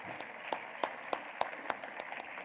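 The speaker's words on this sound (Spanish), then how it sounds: "Un aplauso para Carmen." Applause greets a guest speaker at a talk on osteoporosis in female athletes, a thin spattering of distinct, fairly loud claps from a small audience, with no voices over it.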